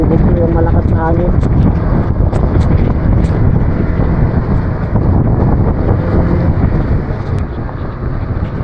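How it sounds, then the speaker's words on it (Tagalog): Strong, steady typhoon wind roaring and buffeting against a microphone while riding a motorcycle on a mountain highway, loud and continuous throughout, with a low rumble underneath. "ramdam na ang motor natin yung lakas ng hangin, guys."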